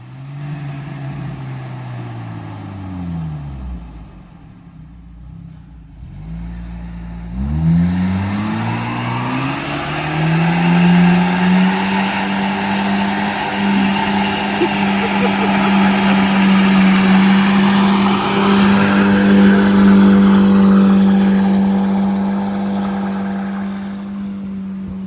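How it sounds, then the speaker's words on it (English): A Volvo 240 Turbo Wagon holds a long, loud burnout: the engine drops low, then surges and sustains a high steady roar with tire hiss for many seconds before easing off slightly. "has a long burnout."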